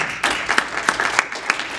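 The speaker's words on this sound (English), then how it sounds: "so I think that's worthy of an applause." A conference audience at a health IT marketing event applauds with scattered, moderately close claps forming a light, uneven patter.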